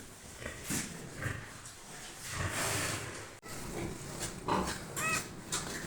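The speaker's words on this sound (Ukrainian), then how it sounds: "поросята гріються під лампочкою лягли" Piglets grunt and squeal softly in a barn, huddled under a heat lamp, with short snorts and rustling close by, several small animals calling at once.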